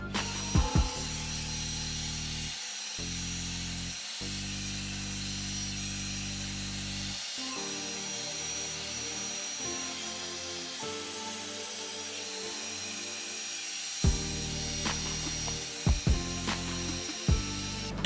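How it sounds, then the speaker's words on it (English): A hair dryer blows steadily across fine, low to medium density natural hair, a loud continuous airflow that cuts in and out in bursts with brief gaps between passes. "you definitely want to make sure that you are blow drying the whole shaft of the hair"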